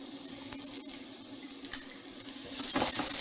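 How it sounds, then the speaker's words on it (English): Chopped onion and garlic with mixed herbs sizzle quietly in a pan, a soft steady frying hiss with a few light scraping stirs and faint clinks. "we're just going to add the chopped onion to the pan, along with the chopped garlic"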